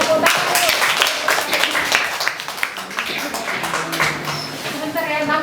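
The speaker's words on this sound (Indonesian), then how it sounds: "Tepuk tangan dulu." Dense, continuous clapping from a group at a primary school workshop, with a voice faintly audible in the background throughout.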